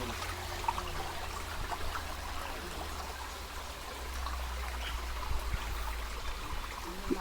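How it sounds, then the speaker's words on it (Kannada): Water trickles and flows steadily over rocks as it emerges from a cave near a hillside temple, a continuous soft wash with small splashes and a low rumble, with no voices. "ಗುಹೆ ಒಳಗಿಂದ ನೀರು ಬರ್ತಾ ಇರೋದು"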